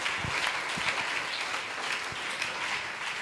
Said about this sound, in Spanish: Dele ese aplauso al Señor esta mañana.